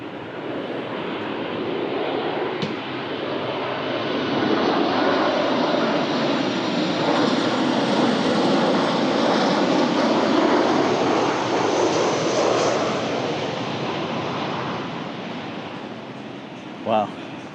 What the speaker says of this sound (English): Oh, here's another plane.